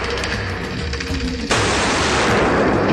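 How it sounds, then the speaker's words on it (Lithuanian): Gunshots ring out one after another during a police confrontation with an elderly man after a taser fails, as a burst of sharp, loud reports, with a sudden louder noisy stretch in the second half, and no talk. "Šūviai nuskamba vienas paskui kitą,"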